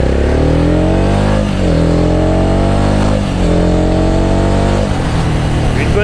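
Voge 300 AC single-cylinder motorcycle exhaust while riding, a loud close engine note that rises through the gears with a couple of brief dips between shifts, running continuously.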